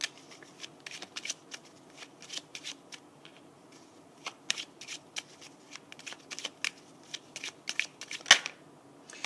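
Oracle cards being shuffled by hand, a run of quick papery riffles and soft flicks that come in irregular bursts close to the listener, with no voice over them.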